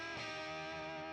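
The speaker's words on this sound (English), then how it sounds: "Great job having that guitar on the right with the distortion, full drums." Distorted electric guitar on a studio album track, ringing out in a dense, sustained wash with a full band behind it, loud and steady for about a second.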